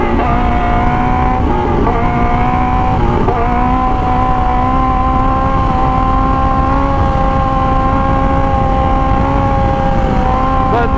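Suzuki GSX-R1000 K5 superbike engine running steadily on the road, a loud continuous drone with strong harmonic tones and slight pitch shifts, close and unbroken throughout with no talk.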